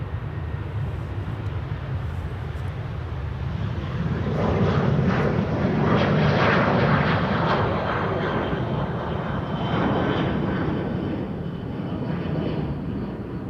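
A KLM airliner, flight 1755 to Hamburg, rolls past on a runway at Amsterdam Schiphol Airport, its jet engines a broad steady roar that swells as it draws near and eases off again, with no voices.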